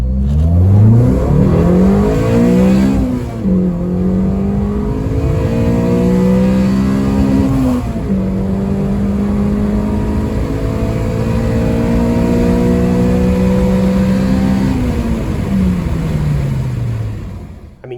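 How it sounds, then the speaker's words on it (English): A Honda Civic EP3 with a swapped-in large intake manifold and VTEC revs repeatedly, its engine note sweeping up and down in loud, close rising and falling pulls for about eighteen seconds, with no talking. "it is so much louder with the VTEC"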